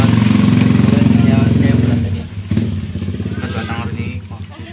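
A motorcycle engine idles loud and close with a rapid, throbbing pulse, dips briefly, then picks back up with a rougher chugging beat while people talk nearby.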